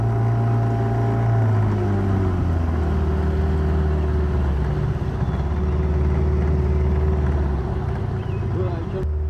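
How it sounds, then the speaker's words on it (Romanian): An old fisherman's boat engine revs loud and close on a Sunday morning, its steady low drone shifting in pitch as the throttle climbs, with someone talking over it. "cum ambalează barca"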